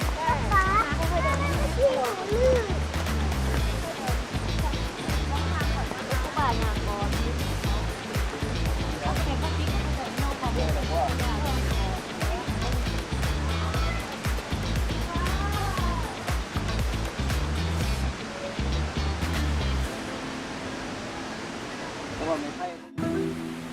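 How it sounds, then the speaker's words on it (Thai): Rushing water from the Tad Yeuang waterfall in southern Laos, about 50 metres high, roars as a broad, steady wash. People talk over it most of the time, and it thins out near the end. "น้ำตกตาดเยียงเป็นน้ำตกที่มีความสูงประมาณ 50 เมตร"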